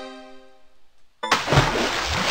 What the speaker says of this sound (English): I guess I fell in the water.